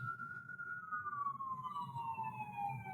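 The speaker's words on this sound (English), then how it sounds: "Hold for sirens." A vehicle siren passes, its wail sliding steadily downward in pitch as it moves away, clear and prominent over low street rumble.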